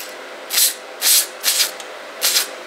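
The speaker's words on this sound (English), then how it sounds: "We'll do that way clean out, spray in there, that way it cleans out any carbon or anything inside." Brake cleaner sprays into a 6.0L Powerstroke injector body in four short, sharp hissing bursts close to the mic, evenly spaced with quiet gaps between them.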